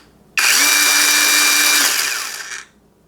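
Bauer battery-powered chain pruner with a freshly replaced chain, switched on for a single high, whirring run of about two seconds that winds down as it is released, loud and close with no talk.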